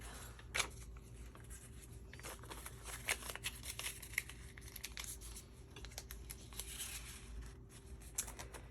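Paper envelope handled as cash bills are stuffed inside: soft close crinkling, rustling and brief papery taps in a quiet room, with a few sharper rustles, no talking.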